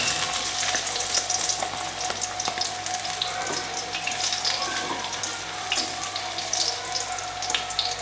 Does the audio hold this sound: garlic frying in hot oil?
yes